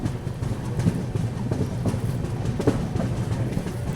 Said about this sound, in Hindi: कोंकण कन्या एक्सप्रेस को भी डिपार्चर मिला।